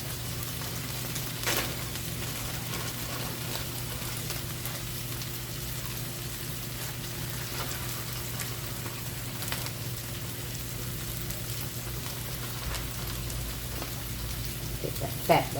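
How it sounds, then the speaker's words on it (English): Fatback sizzles on a Blackstone griddle as a steady, soft crackling hiss under a low constant hum, with a few louder pops scattered through. "I'm going to throw a couple pieces of fat back over here too."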